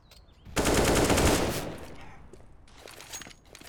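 Sustained automatic gunfire in CS:GO during a competitive semifinal match, a loud dense burst lasting about a second then tailing off into scattered fainter shots.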